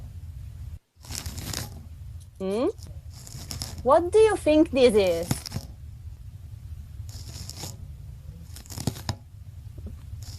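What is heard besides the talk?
snail rasping food with its radula while eating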